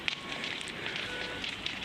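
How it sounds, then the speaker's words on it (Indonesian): Wildfire burns near a railway line with a steady, dense crackling hiss and occasional sharp pops, continuous and moderately loud, with wind-like noise and no talk. "Api membakar hingga mendekati jalur kereta api."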